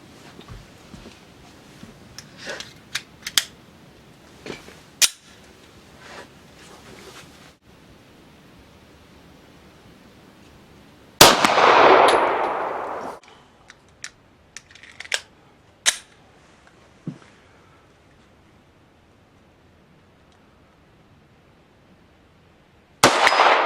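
Sharp, isolated reports from a gun firing 32 French Long cartridges loaded with Unique powder over a chronograph, a handful of loud separate shots with gaps between them, plus one longer burst of noise midway.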